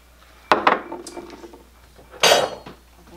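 Minced garlic, two cloves, stirred around a pan with a utensil while cooking cushaw: two short bursts of clinking, scraping cookware against the pan, close and fairly loud, with a quiet stretch between them.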